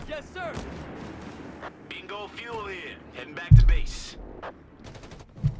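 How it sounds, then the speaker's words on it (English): Gunfire and a heavy rifle grenade impact in a Company of Heroes 3 match, crackling shots under a commentator's talk and then a sudden loud low boom, followed by another brief blast near the end. "But they return with the rifle grenade. Landing a nasty hit."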